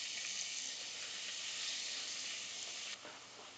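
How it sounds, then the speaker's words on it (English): Pieces of food dropped into a pan of hot fat give a loud, steady sizzle that fills the whole stretch and then dips slightly near the end. "It's going to sizzle when I put these in, no doubt."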